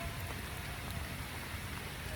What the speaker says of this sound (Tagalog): Kanina pa umuulan.